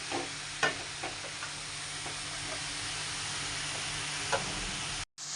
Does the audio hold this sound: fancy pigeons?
no